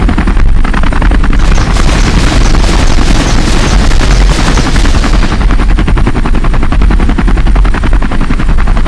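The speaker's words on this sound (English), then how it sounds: "Missiles do work." Missiles and rapid weapon fire in a Halo video game, a dense, loud barrage of bursts and booms over a steady roaring engine-like drone, continuous throughout with the heaviest firing in the first half.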